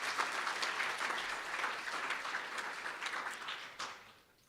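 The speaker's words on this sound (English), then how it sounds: "can you give Carol and the team a big round of applause?" An audience at a citizens' assembly claps for Carol and her team, a steady, moderately loud round of applause that slowly tapers off at the end.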